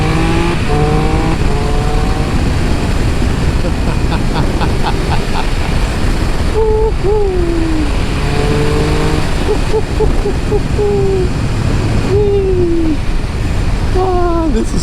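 A 2022 Triumph Speed Triple RR motorcycle accelerates with its engine revving up through rising pitch sweeps under heavy wind rush, the revs dropping and climbing again several times, close to the rider, with some talk mixed in.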